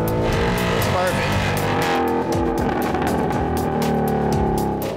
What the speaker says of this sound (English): This is, to me, the way a Mustang should sound right here. A little gravelly, a little bit too loud.